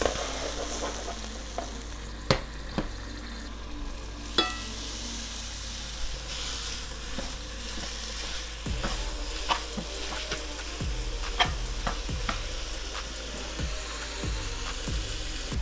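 Sausage and peppers frying in a skillet give a steady low sizzle, broken by occasional sharp pops and clicks of stirring, with no talking.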